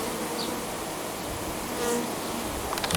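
Honey bees from a swarm climbing onto a hive frame, a steady close buzzing drone throughout with a few individual bees passing nearer.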